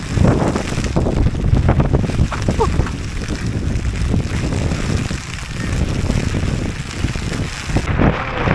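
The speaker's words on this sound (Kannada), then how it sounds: "ಫುಲ್ಲು ಜೋರು ಮಳೆ." Heavy monsoon rain falls in the forest around a tea estate near Sakleshpur, a dense, steady hiss that fills the whole clip, close and loud, with gusty wind noise on the microphone.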